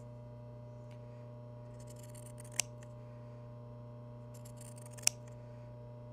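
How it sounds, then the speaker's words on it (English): Fabric shears make two crisp, isolated snips a few seconds apart during basic seam sewing, over a steady electrical hum in a quiet room. "Make sure that you're holding the fabric that you don't want to have cut away from the blades of the shears."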